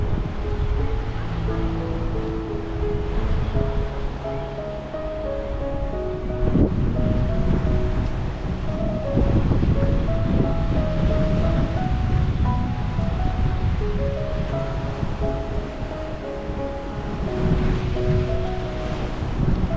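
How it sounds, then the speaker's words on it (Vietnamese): Sea waves washing onto a beach in the afternoon, a continuous loud surf roar with rolling swells and gusts of wind buffeting the microphone, no voices. "Biển buổi chiều á cả nhà, em rất là đẹp luôn."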